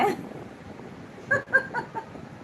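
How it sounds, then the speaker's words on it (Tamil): A hen gives a few short clucks close by over faint background noise. "ஏண்டி கோழி கத்துது"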